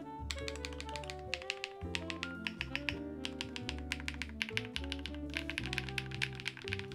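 Rapid clacky typing on a Trio 65 mechanical keyboard with Bigwig switches, many quick keystrokes in bursts, close and crisp, with a slightly hollow thock under the clicks, most noticeable on the bottom row.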